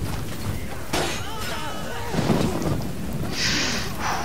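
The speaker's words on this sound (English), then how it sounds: "It's raining." Steady rain pours with rolling thunder rumbling through in the video game Chivalry: Medieval Warfare, while voices talk intermittently over the storm.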